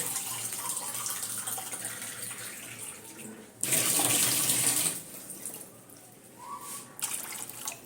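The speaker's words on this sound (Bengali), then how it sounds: "কড়াতে এবারে জল দিয়ে দিচ্ছি আমি আমলকিগুলোকে সেদ্ধ করব" Water is poured into a wok to boil amla (Indian gooseberries): one loud, close splashing pour lasting just over a second, with softer running-water sounds before and after.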